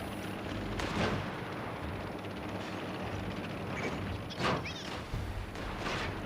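Distant booming artillery fire in a tank battle video game, a few heavy thuds and rumbles rising over a constant dense background of engine drone and battle noise, with no talking.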